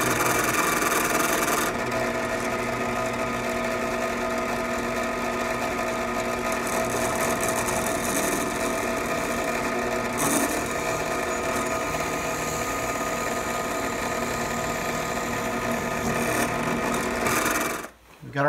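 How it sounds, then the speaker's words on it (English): A drill boring tuner holes through a banjo headstock while converting a Vega Tubaphone to a tenor neck, a steady whining motor drone running continuously and loudly for most of the clip before stopping near the end. "We're starting with a smaller drill bit. We're going to step this up and we'll find the size."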